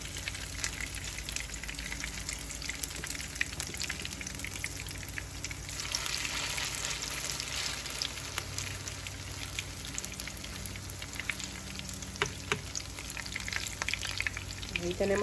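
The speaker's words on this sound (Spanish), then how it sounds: "Vamos a esperar que estas se nos friten de un lado para darles vuelta al otro lado" Tortas de pitó (gasparitos) frying in oil, a continuous dense crackling sizzle like light rain that holds steady throughout, close and even, with occasional small pops and no talking.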